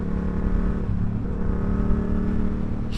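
An A2 restricted motorcycle engine runs with an instant throttle response, giving a steady close-up mechanical drone with layered harmonic tones that waver slightly, ending in a brief burst of hiss.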